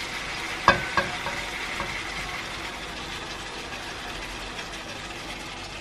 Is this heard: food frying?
yes